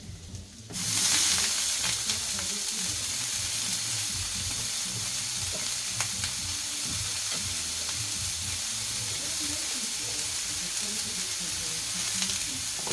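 Broccoli hits a hot flat top griddle with butter and oil, setting off an abrupt, loud sizzle that then holds as a steady close hiss, with a few light utensil ticks.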